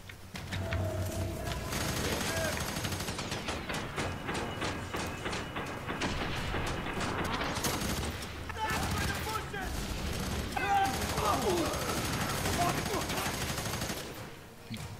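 Rapid, sustained gunfire in the video game F.E.A.R. 3 during co-op play, dense automatic bursts rattling almost continuously at close range, with a voice talking under the shooting.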